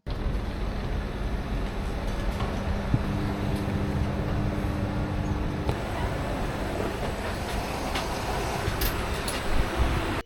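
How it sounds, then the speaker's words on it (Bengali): Steady low rumble of a train rolling into a station at night, with a sustained hum and mechanical clatter filling the clip throughout, fairly loud and continuous. "কিছুক্ষণ পরে ট্রেন তো ঢুকেই পড়লো"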